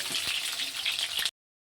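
Water with oil and salt boiling in a pot, a steady close bubbling and hissing roil that runs alone for about a second before cutting off.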